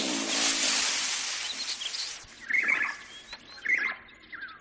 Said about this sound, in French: Écoute, l'oiseau écarlate.